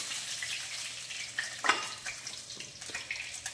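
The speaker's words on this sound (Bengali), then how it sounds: "বোয়াল মাছ কিন্তু ভাজার সময় খুব ফাটে, আপনারা ঢাকা দিয়ে ভাজবেন, নাহলে ফট ফট করে ফাটতে থাকবে।" Pieces of boal fish fry in hot oil in a kitchen, giving a steady low sizzle with scattered sharp pops and spatters, one louder crack near the middle, close and fairly quiet.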